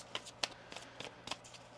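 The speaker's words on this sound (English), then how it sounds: "One more shuffle here." A tarot deck is shuffled by hand, giving a run of quick papery riffles and soft card snaps in short bursts, quiet and close with no voice over them.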